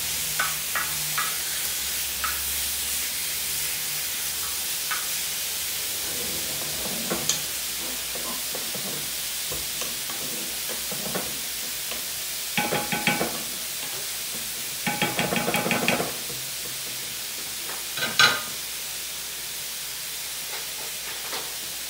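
Carreteiro rice is stirred as it cooks in a plow disc over a wood-fired stove, giving a steady close sizzle and hiss with scraping strokes. The scrapes come in louder bursts near the middle and end.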